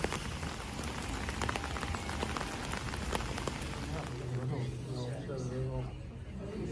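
Steady rain patters on hard surfaces close by in Stockholm, Sweden, a dense spray of drops, with a voice talking faintly underneath in the latter part.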